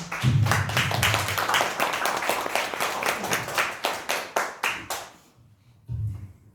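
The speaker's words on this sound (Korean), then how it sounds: "우리 강사님 나오실 때 박수로 환영합니다" A church gathering claps to welcome the guest pastor to the pulpit. Dense applause settles into a short run of distinct rhythmic claps, then stops abruptly, leaving near quiet before a brief low rumble.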